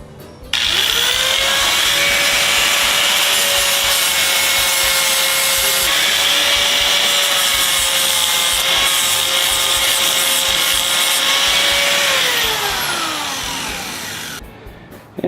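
A flap wheel on a grinder works over small GS550 motorcycle parts, one long steady high-pitched whine with abrasive rasp that holds close and loud for about twelve seconds, then winds down.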